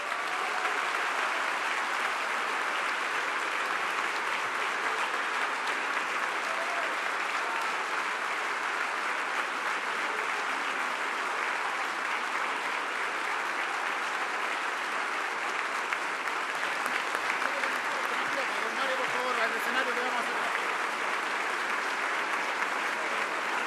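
Sustained audience applause fills the hall after a Chilean Comptroller's speech at the Enade 2025 business conference, a dense, steady wash of clapping from many hands lasting the whole stretch with no speech over it.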